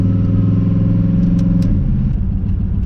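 A turbocharged LS-swapped Mustang cruises along, its engine a loud, steady low rumble with a deep throb that stays constant and close throughout.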